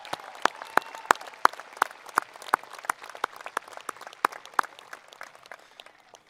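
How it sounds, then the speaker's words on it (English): At a 2021 high school commencement, an audience claps for the parents and guardians of the graduating class. Sparse, distinct hand claps ring out over a light bed of applause and gradually thin toward the end. "let's give these parents and guardians of the class of 2021 a well-deserved"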